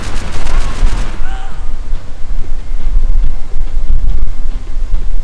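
Machine gun fire in Max Payne 3 rattles in a loud close burst of rapid shots, then gives way to quieter ambient rumble and scattered sounds.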